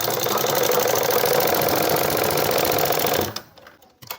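Sewing machine stitching a seam on a women's shirt: a fast, steady mechanical whir and rattle, close and loud for about three seconds, then it stops abruptly and a few faint handling sounds follow.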